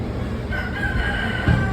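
A rooster crows once, close and clear, at a spot with many goats and chickens kept nearby; no voices are heard.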